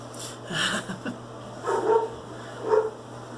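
Several dogs barking outside, distant and muffled, in a few separate bursts over a steady low hum.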